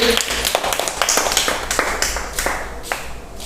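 A group of children claps their hands in a classroom lesson, producing steady, quick, overlapping claps that are close and fairly loud throughout, with some voices mixed in.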